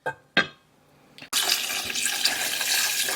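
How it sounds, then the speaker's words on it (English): Water pours into a pot of softened aromatics for salmon sinigang, a steady, close splashing rush that starts after a few clinks of the pot and continues loudly without talk. "So I'm going to go ahead and add in some water."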